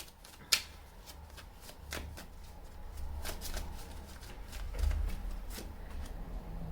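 Tarot cards shuffled and drawn during a reading, soft riffling and rustling with a sharp snap near the start and scattered card flicks, quiet and close, no speech.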